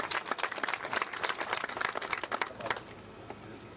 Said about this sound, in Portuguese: eu peço uma salva de palmas a essas filhas que aqui estão